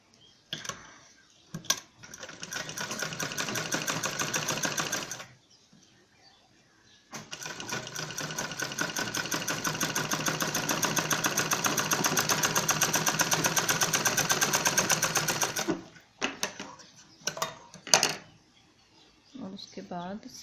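A sewing machine stitches a fur cloth bag with a zip in two long bursts of rapid, rhythmic needle clatter, separated by a pause and followed by scattered short stitches.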